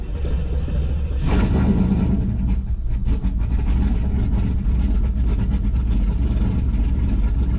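A Chevrolet Camaro Z28 with a big cam idles unevenly with a deep, loping rumble, starting with a brief rev and settling into a choppy, lumpy idle close by.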